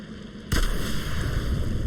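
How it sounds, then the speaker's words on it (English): A tar bomb in the game Remnant 2 goes off as a sudden low blast, followed by a continuing rumbling crackle that holds steady to the end. "Now, you will get a slight explosion effect"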